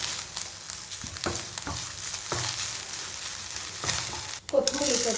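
Grated coconut sautéing with chana dal in a hot pan, a steady dense sizzle broken by a few sharp clatters of stirring and a louder burst near the end.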